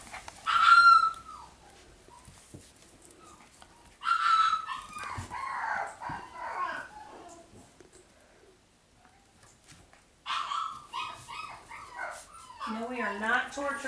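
Mini Goldendoodle puppies yap and whine in bursts in the background, fairly close, with short high-pitched cries between quieter gaps while someone talks softly over them.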